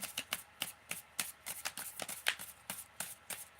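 Quick, papery riffles and snaps of new, sticky tarot cards being shuffled by hand, coming in uneven bursts at close range.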